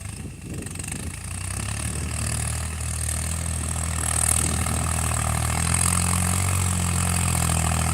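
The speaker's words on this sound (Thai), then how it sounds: "เครื่อง ยังไหวครับ แรงยัง มี ครับ ทีทีห้าสิบห้านิวฮอลแลนด์" A New Holland TT55 tractor's diesel engine idles steadily with a low, continuous rumble, fairly close and unchanging throughout, with no voices.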